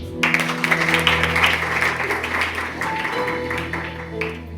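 A church congregation applauds in a dense, sustained burst of clapping, with sustained keyboard tones held underneath, loud and fairly close, gradually thinning toward the end.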